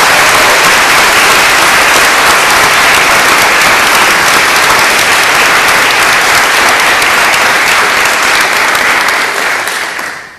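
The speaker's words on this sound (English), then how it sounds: "I want to give you a round of applause" A large audience at a moot court final gives sustained, dense applause for a best advocate award. The clapping stays loud and even for about ten seconds, then fades out at the end.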